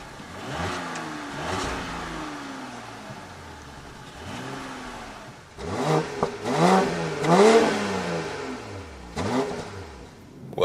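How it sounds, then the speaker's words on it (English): A BMW 540i 5 Series with a six-cylinder engine accelerates hard on the Autobahn, the engine note rising and dropping through several gear changes and growing louder and more insistent as speed builds. "starting here with the BMW 540i, the six-cylinder in the 5 Series, and we go with the Autobahn acceleration"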